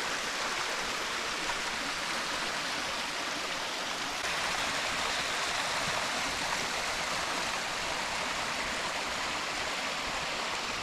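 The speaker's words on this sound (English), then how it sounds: "There's a waterfall down here." Steady, loud rush of a waterfall at Samuel P Taylor State Park, a continuous broadband roar of falling water close by with no break, no voices over it.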